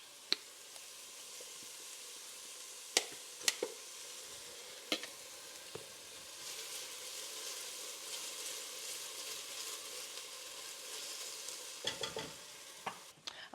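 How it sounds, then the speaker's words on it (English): Garlic sizzles softly in a hot pot for Zuppa Toscana, a steady low frying hiss punctuated by scattered sharp taps and scrapes of a spoon stirring, quiet and close. "I'm going to add my garlic."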